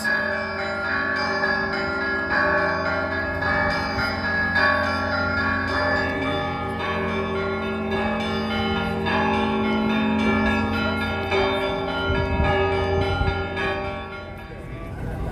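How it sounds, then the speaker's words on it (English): Church bells on Moscow's Red Square ring continuously and fairly loud, their overlapping tones layering into a sustained, resonant peal throughout. "we might just stop for a minute and listen to these bells"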